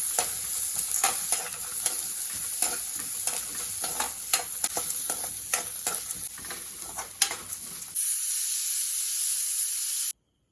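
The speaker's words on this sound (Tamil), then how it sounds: "நல்லா வறுத்துக்கணும்." Dry ingredients for horse gram sundal rattling and scraping in a hot pan as they are stirred, with a constant hiss and rhythmic scraping strokes, then sudden quiet.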